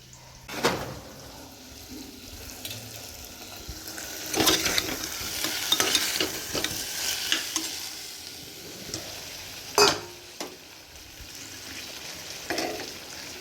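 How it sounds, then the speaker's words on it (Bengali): Soft sizzling of onions frying in a pan with occasional stirring and clinks of a utensil, fairly quiet and close. "এখন পেঁয়াজটা ভাজা হচ্ছে"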